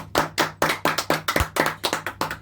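A small group claps by hand, about a dozen sharp, distinct claps in a quick, slightly uneven rhythm, close and clear with no talk over them.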